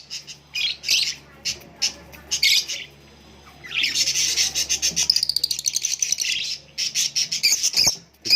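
A charcoal male cockatiel in a breeding setup chirps close by in rapid bursts of shrill calls, including a long fast trill of repeated notes, with no other sounds competing.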